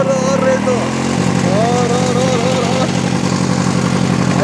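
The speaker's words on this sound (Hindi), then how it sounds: "मैं थोड़ा सा और रेस देता हूँ" A Bullet motorcycle engine runs loud and close with a steady thumping idle that rises into revving, while someone talks over it throughout.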